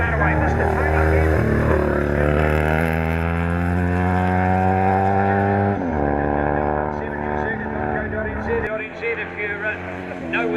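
A racing motorcycle launches up a hill-climb course at the Burt Munro Challenge, its engine droning loud and steady with rising pitch sweeps as it pulls away, a commentator talking over it.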